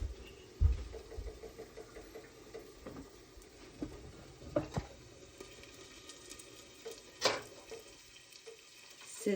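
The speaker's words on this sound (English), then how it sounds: "Sizzling away over there." Eggs and sweet potato sizzle and crackle steadily in a hot pan, with scattered sharp pops and a few soft clinks, fairly quiet with no talking.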